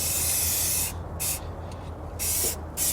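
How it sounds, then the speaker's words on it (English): Spray gun hissing in bursts while painting a Chevy 350 engine block: a steady broad hiss that pauses briefly and then sprays again in short on-off pulses over a low background hum, close up. "Time to paint the block while everything's out of the way."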